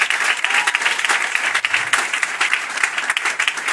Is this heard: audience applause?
yes